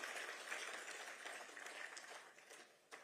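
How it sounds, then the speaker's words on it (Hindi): Audience applause at a Raj Bhavan event in honour of Chief Minister Pushkar Singh Dhami, a steady wash of many hands clapping that holds for about three seconds and fades slightly toward the end. "एक ताली हो जाए जोर से हमारी"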